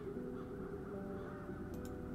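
Crows caw harshly in the fantasy adventure video game Chains of Satinav, a few rough calls heard alone over a steady ambient backdrop.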